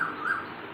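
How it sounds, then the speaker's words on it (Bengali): A koel perched in a tree calls during a rainy day, a clear, fairly close tuneful note that rises twice in quick succession, heard alone without talk. "কোথায় আবার কোকিল পাখি ডাকছে গাছের উপর বসে"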